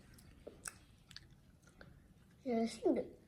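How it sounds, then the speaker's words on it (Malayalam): Chewing on homemade fried quail at a family lunch, soft mouth clicks and a couple of louder, wetter bites near the end, heard close. "കാട നമ്മൾ ഇതൊക്കെ ഇങ്ങനെ എടുത്തിട്ട് ഫ്രൈ ഇങ്ങനെ കഴിക്കണം"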